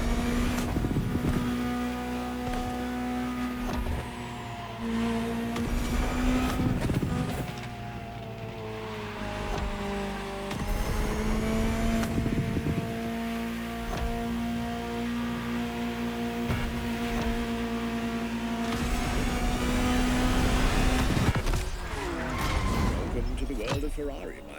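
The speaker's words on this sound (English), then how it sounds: "Just listen to the car you're driving." A Ferrari supercar from 1984, driven in the racing game The Crew Motorfest, drones with a loud engine note that rises and shifts through gear changes, with a voice narrating over it.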